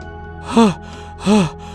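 A man panting after a hard run: two loud, voiced gasping breaths less than a second apart, close to the listener, with a quiet background between them.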